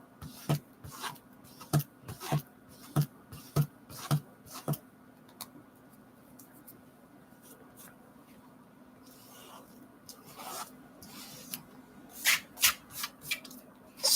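Someone rubs dirt off the pages of an old book. About a dozen brisk, evenly spaced strokes come first, then a quiet stretch, then a quicker flurry of rubbing near the end, close by with no talk.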